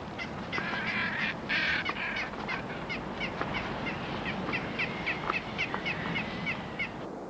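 Seabirds in flight as a frigatebird chases and robs a booby, harsh crow-like caws and honking calls repeating in a steady stream over a constant background wash, fairly close and loud throughout.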